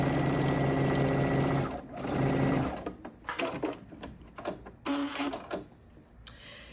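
A sewing machine stitches quilt block pieces together with right sides facing, running in a loud, steady whir, pausing briefly, then continuing in shorter bursts with small mechanical clicks between runs.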